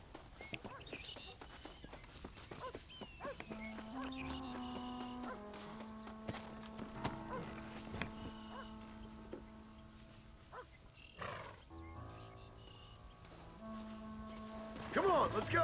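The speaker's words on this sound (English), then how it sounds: "Mount Horse." Horse hooves clip-clop at a walking pace in the Red Dead Redemption video game, steady and moderately close beneath an orchestral score, with characters talking over it.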